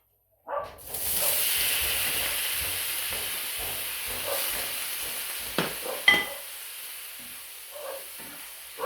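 Steady frying hiss and sizzle from a hot pan with occasional clinks and scrapes of stirring, continuous and fairly close, no talking.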